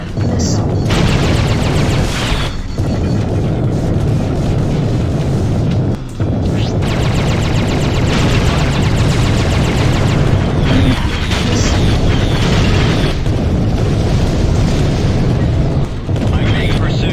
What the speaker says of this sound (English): I'm under fire. Incoming missile.